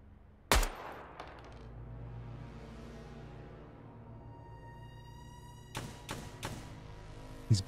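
Gunfire in a battle royale video game: a sharp loud shot early on, then a cluster of several quick shots near the end over steady game ambience.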